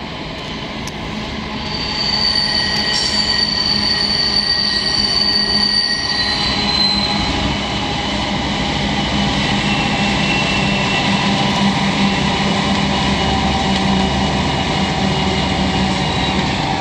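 CN diesel trains pass through a Montreal rail yard, with a loud, steady rumble of rolling cars and wheels and a high squeal of wheels on rail for several seconds.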